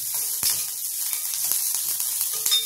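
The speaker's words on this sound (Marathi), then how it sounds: "आणि ह्या मिरच्या भाजायला सुरुवात फुल गॅस" Green chillies roast in a pan over a full gas flame, a steady close sizzle and hiss with scattered crackles and stirring scrapes, no voices.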